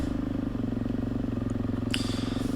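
A KTM 390 Race Edition motorcycle rides along a trail, its engine a steady, pulsing drone close by with a brief clatter near the end.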